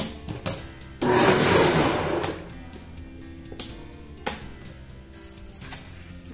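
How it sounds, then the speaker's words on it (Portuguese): A kitchen blender spins briefly with water to rinse out its jar while making homemade natural NPK fertilizer: one loud, close whirring burst of about a second, then quieter clatter and handling noises. "Então, pessoal, bate no liquidificador rapidinho."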